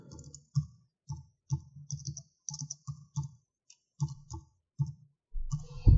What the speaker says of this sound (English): So I am going to type in the card number here.